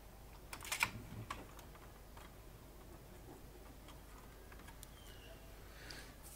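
Keys pressed on an IBM Wheelwriter typewriter keyboard under restoration, a quick cluster of sharp clicks near the start, then faint scattered ticks over quiet background hum.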